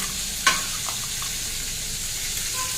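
Fish frying in plenty of hot oil, with a steady close hiss and a single sharp spatter or utensil tap near the start, and no voices.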